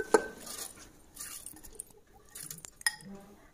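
Raw rice and dal poured into a metal pressure cooker, making a light patter and scattered clinks of grains and utensils against metal, soft and brief with small pauses.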